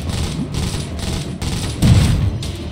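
Musket volleys in the Iron Marines strategy game crack out in a rapid ragged rhythm, several bursts of booming shots close together, loud and dense, with a heavier blast near the end.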